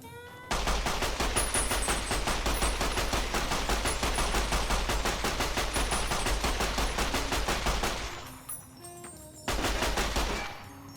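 Rapid sustained automatic gunfire with hollow point ammo in the video game Fallout: New Vegas, loud dense bursts of shots that break off briefly and then resume.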